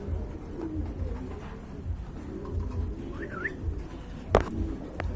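A pair of pigeons at a pigeon farm coo softly in a low, repeated rumble, with a brief sharp knock near the end and faint background sounds.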